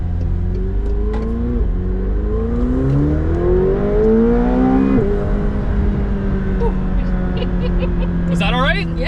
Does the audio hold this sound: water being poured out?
no